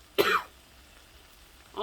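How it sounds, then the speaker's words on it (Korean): A single short cough from spicy fumes while cooking peppers, close and fairly loud, followed by quiet and the start of another sound at the very end. "여러분 기침 나와서 미안해요."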